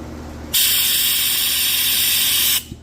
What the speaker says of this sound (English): now it's time to vacuum test it. I got this gauge.